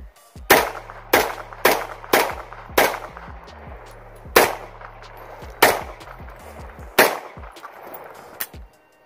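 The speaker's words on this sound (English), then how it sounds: "right now, we're going to shoot some rounds down range." Tennessee Arms Tac-9 AR9 rifle fired down range, nine sharp loud gunshots at irregular intervals with short ringing decays, close up and with no talking.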